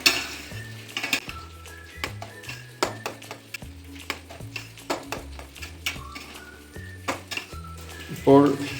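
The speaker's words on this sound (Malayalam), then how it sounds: "അതിനുശേഷം നന്നായി ഇളക്കി യോജിപ്പിക്കണം." Upma is stirred in a pan with a metal spoon, giving repeated scraping knocks and clinks in an uneven rhythm, close and moderately loud under a faint sizzle.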